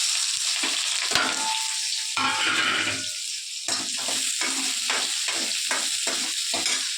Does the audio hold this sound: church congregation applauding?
no